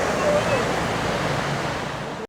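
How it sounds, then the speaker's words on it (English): Surf washing onto Kuta Beach in Bali, a steady broadband roar of waves with wind, continuous and fairly loud before cutting off abruptly at the end. "There's the beach area here."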